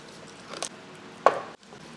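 A knife slices through a steak cooked in a dishwasher with beef tallow and butter, giving two short, close cutting rasps about half a second apart against a quiet room.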